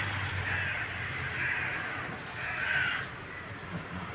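Several crows caw in loud, harsh bursts, a few calls spaced out over steady outdoor background noise.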